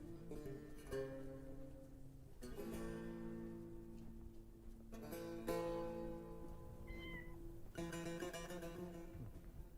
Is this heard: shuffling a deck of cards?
no